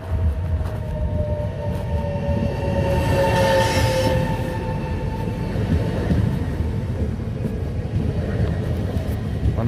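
A train rolls past on a railway in Tuscany with a steady low rumble and rattling wheels, a thin metallic squeal rising above it midway through, fairly close.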